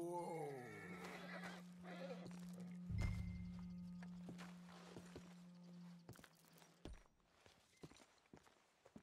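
A horse in the video game Red Dead Redemption 2 whinnies near the start, followed by a steady low tone, soft thuds and scattered clip-clop hoofbeats, with game-like effects in the background.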